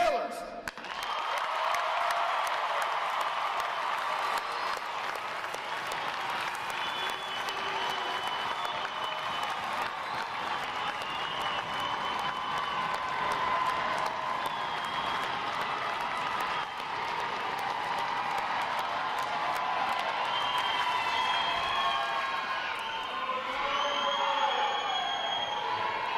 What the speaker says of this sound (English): let's give a round of applause to the 10 other graduating divisions today